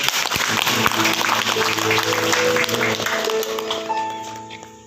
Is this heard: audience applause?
yes